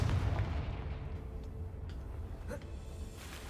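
A Confringo fire spell blasting in the video game Hogwarts Legacy, a loud rumbling explosive roar that starts strong and slowly tails off into a low churning decay.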